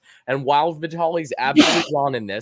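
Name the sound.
sneeze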